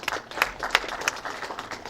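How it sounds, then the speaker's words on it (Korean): A seminar audience gathered for a talk on livestock manure odor gives scattered, uneven handclaps to welcome a presenter, with a few sharper claps standing out over a soft crowd murmur in a short burst. "큰 박수로 마주해 주시기 바랍니다."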